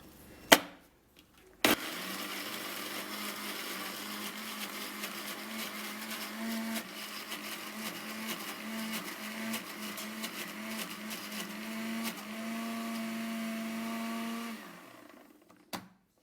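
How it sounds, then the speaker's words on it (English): A blender whirring through onion and onion juice, starting after a couple of sharp clicks and running steadily at a close, loud pitch for about thirteen seconds before cutting off. "then blend it with the onion with the onion here"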